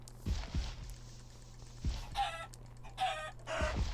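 Chickens in a video game cluck in short bursts, with a few soft thuds like footsteps and a steady low hum underneath.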